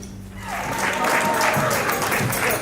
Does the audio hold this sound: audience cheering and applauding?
yes